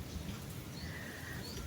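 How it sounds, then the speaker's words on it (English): Light rain falls steadily on a backyard garden with tomato plants, a soft, continuous hiss that stays faint throughout with no talking. "It's starting to rain again."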